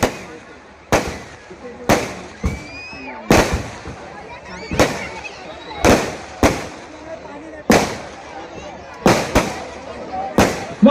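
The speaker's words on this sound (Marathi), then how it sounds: "फटाके बंद करा, फटाके बंद करा लवकर." Firecrackers burst one after another at an outdoor political rally, about a dozen loud sharp bangs at irregular intervals, each with a short echoing tail, while a voice on the loudspeaker talks between them.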